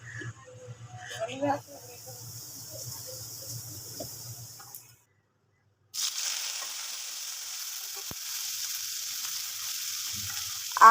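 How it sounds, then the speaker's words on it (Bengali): Jackfruit and potato, already boiled with salt and turmeric, fry in a little oil, giving a soft crackling hiss that breaks off for a moment then returns steadier and brighter, with faint low murmur and clatter early on. "তো এখন অল্প তেল দিয়ে এটাকে একটু ভেজে নেব।"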